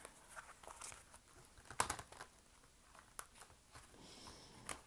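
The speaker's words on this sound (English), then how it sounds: "Okay, come on, let's shuffle." Soft papery shuffling and riffling of tarot cards, with scattered taps and crinkles at an irregular pace, close and fairly quiet, no talking.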